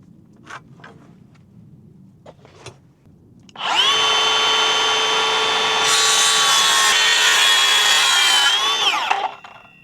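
A saw cuts through a wooden batten on a caravan frame build, with a few light taps first and then a loud, steady whining cut lasting about six seconds before it stops.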